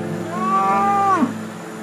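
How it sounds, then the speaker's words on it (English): A cow lets out one loud, drawn-out moo, close and clear, that rises and then falls away over a steady background hum. "This guy, Dave, had just stopped to film these cows"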